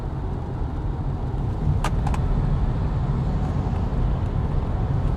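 Steady low road rumble inside a BMW i4 M50 electric car on the move, a constant broadband drone with faint tyre and wind noise and no voices.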